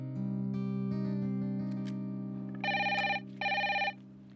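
A telephone rings in two bursts of bright trilling bells over a steady hum of background music during a call home, loud and close, with no talking.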